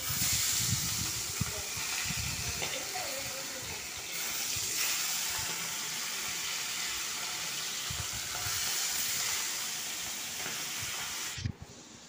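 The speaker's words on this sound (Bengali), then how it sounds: "এখন মাছগুলো ভেজে নেব।" Pomfret fish fry in a frying pan with a continuous loud hiss and crackling sizzle, broken by a few clinks and handling sounds near the end.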